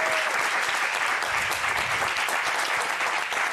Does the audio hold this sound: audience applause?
yes